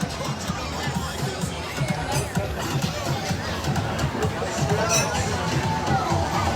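Dense crowd noise along the Wildwoods boardwalk pier on a busy Saturday night: continuous overlapping chatter and footsteps from many people nearby, with occasional sharp knocks and louder voices rising out of the babble.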